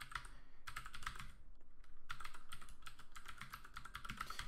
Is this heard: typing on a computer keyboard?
yes